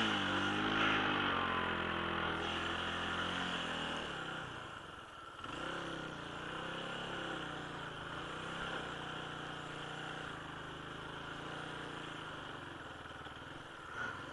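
A Suzuki DR350SE motorcycle engine revs in the snow, a loud, sustained buzzing drone whose pitch rises and falls as the throttle is worked. It is close and continuous.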